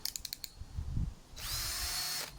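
A power drill spins up to tighten a blade sharpening stone attachment for a lawn mower blade, with a few short clicks first, then a steady high whirring run close to the microphone for about a second.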